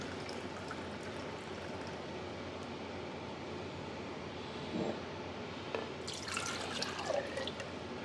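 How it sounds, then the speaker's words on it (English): Water poured into a glass jar for lab media preparation, a faint steady trickle with a brighter splashing pour near the end, close and quiet. "we're going to fill the glass cup, the glass jar, with"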